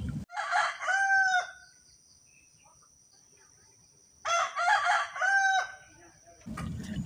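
A rooster crows twice, loud and close, each crow a long drawn-out call, with a quiet pause between them and a brief muffled noise at the start and end.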